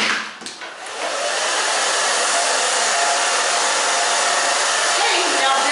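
Hair dryer blowing steadily on medium-length hair while a round brush works each small section, a loud, close, constant whoosh after a brief uneven start, with no talk over it.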